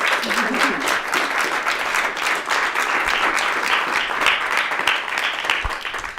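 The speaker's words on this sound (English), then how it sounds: "Well, a round of applause." An audience at a book launch talk breaks into sustained applause, a dense, steady patter of many hands clapping for several seconds, with a voice speaking faintly at the start.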